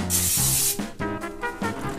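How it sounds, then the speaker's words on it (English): A broad hiss of cooking spray for about half a second, followed by soft rubbing and clinking sounds with faint background music. "I will even hit that with just a tiny spritz of cooking spray"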